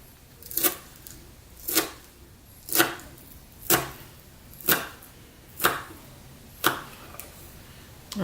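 A knife chops chives on a cutting board in slow, evenly spaced strokes, about eight crisp cuts with quiet pauses between them.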